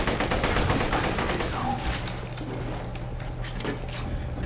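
Rapid automatic gunfire from a gun in Borderlands 2 rattles on continuously, dense and loud, with a steady run of shots and no talk over it.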